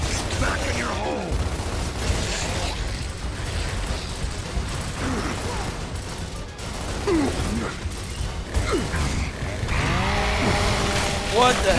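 A chainsaw attack in the video game Gears of War churns through dense, loud mechanical grinding and clatter with crashing impacts, continuous over several seconds with game effects layered in.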